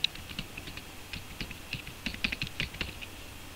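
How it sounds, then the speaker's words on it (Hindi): A password is typed on a computer keyboard: a quick, irregular run of soft, close keystrokes with short pauses between bursts. "मैं पासवर्ड लिखा, उसके बाद अनलॉक पे क्लिक,"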